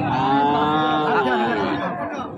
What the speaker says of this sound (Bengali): আরে অনেক অনেক গরু আছে